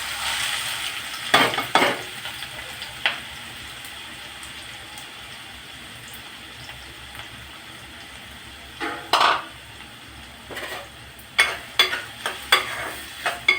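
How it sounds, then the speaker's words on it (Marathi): Two chopped onions drop into hot oil for an egg bhurji, making a steady close sizzle with scattered bursts of stirring and utensil scrapes against the pan. "आता त्यामध्ये प्रथम आपण हा दोन कांदे चिरून जे घेतले होते ते टाकणार आहोत"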